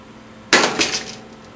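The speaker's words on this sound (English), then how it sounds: "So the glass piece broke very easily at about a quarter of the load of the ice chamber." A thick-walled glass tube shatters under compression load in a testing rig, a sudden loud crack followed by a second burst of breaking and tinkling fragments that fade out.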